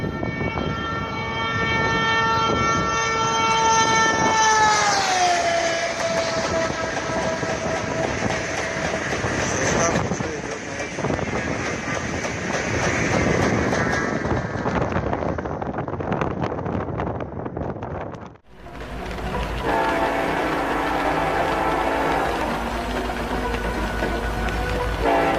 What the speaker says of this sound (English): shows footage of train brake tests after the uncoupling.